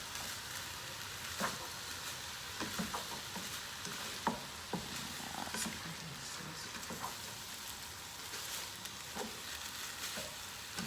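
Food frying in a home kitchen pan, with a steady low sizzle and occasional clicks and knocks from stirring over about eleven seconds, fairly quiet and without speech.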